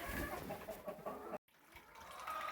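Chickens on a homestead farm clucking softly while scratching through straw for corn grains, a close, busy patter of small clucks and rustles, briefly cut off near the middle.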